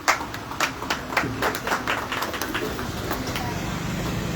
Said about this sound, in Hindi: जोरदार ताली से हमन दीदी के धन्यवाद बोला था